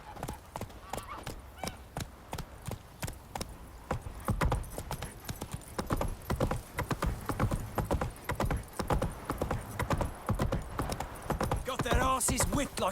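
Roach the horse in The Witcher 3 video game clip-clops steadily on hard ground, the rhythmic hoofbeats growing louder and quicker midway, with a brief neigh and game ambience around them.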